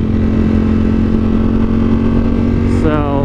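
A 2021 Ducati Streetfighter V4 motorcycle engine runs loud and steady up close with wind roar, rising into a sharp rev near the end, as heard from the rider's position.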